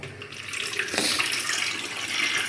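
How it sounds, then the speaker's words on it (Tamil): Water pouring from a tap into a sprayer bottle, a steady rushing stream that gains force after a moment, close and loud. "இதில் தண்ணியை நிரப்புகிறோம்"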